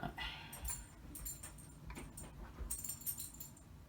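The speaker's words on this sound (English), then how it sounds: "That's the jingle jangling you're hearing behind me." Metal tags on an old 14-year-old female dog's collar jingle in quiet bursts as she gets up and moves around a room, light irregular clinks over a faint background.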